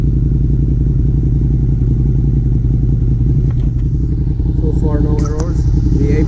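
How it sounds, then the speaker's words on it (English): A 2018 Suzuki SV650A motorcycle engine, newly flashed with a Woolich Racing ECU tune, idles loudly and close by with a steady throbbing rumble, and brief clatter over it. "Damn, the bike is so louder."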